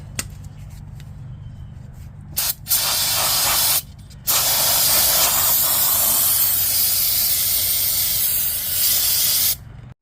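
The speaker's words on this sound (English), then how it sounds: "Okay, let's spray that off." Brake parts cleaner sprays hard onto the brakes of a Smart car in bursts: a short spritz, then two long sustained hisses with brief pauses between, loud and close, with no talking.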